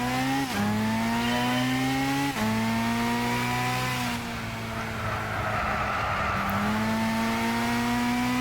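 Race car engine in Gran Turismo 6 revving hard as it accelerates, a loud, steady tone that climbs in pitch through repeated gear changes, with short dips at each shift, in a British non-race car seasonal event.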